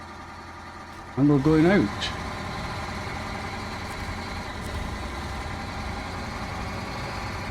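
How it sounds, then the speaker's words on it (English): A big truck engine in the Snowrunner driving game cranks and fires with a brief rising roar, then settles into a steady low idle rumble, while someone talks briefly. "Firing up that monstrous engine"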